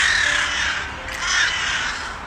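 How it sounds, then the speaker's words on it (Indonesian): Crows caw over a dense, continuous wash of bird noise, loud and close, with the harsh calls overlapping throughout as a large flock gathers. "Burung-burung itu akhirnya tiba"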